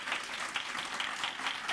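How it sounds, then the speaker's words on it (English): An audience in a meeting room applauds the speakers at a marriage equality event in Boca Raton, a steady dense clapping that stays fairly even throughout, moderately near. "Can we have a round of applause for our awesome speakers?"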